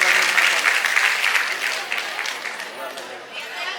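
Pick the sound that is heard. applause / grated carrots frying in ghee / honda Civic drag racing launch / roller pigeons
applause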